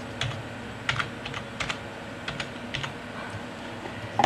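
Someone types an administrator password on a computer keyboard, a close run of quick irregular key clicks with short pauses, alone with no talk.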